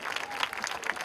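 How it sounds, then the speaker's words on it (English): A brief burst of audience applause at an art festival, many hands clapping steadily at a moderate distance. "we cannot stop the applause."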